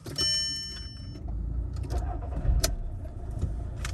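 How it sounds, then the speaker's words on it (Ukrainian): A 2007 Volkswagen Polo's engine cranks briefly with a chime sounding, then catches and settles into a steady idle heard from inside the car. "Заведемо автомобіль."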